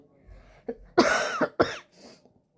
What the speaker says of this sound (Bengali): মাঝে মাঝে এখনও কাশি হচ্ছে